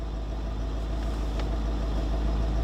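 A Jaguar or Land Rover engine idles steadily with a low constant hum as the transmission is shifted into drive, with no talk over it.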